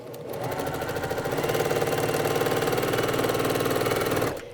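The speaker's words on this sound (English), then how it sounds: "we're going to come around and sew about 1/2 inch, maybe a little less, right alongside it" A sewing machine stitches fabric in a steady, fast mechanical rhythm that runs loudly and evenly for several seconds, then stops.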